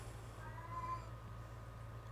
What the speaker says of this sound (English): You notice how he only starts meowing when I'm talking?